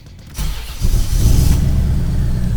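A 1989 Corvette engine cranks briefly, catches and roars to life, settling into a loud, rough, rumbling idle nearby.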